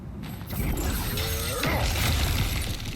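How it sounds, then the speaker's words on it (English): Objects smashing in God of War Ragnarok: a mix of cracking, rattling and breaking debris over a steady low rumble, a few short mechanical clatters standing out, moderately loud and alone without talk. "back to smashing through things for fun and profit"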